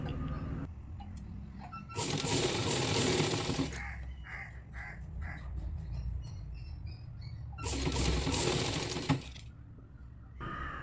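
A sewing machine stitches along the edge of a cross piece of fabric for a nighty, running in two loud, close bursts of a couple of seconds each, separated by quieter handling and light clicks.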